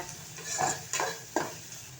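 Onion, tomato and chili sautéing in a pan for an egg stir-fry, with a soft steady sizzle and a few stirring scrapes that rise in brief bursts, close by and with no talk.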